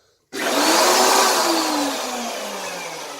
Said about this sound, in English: flip a switch, and I've got a router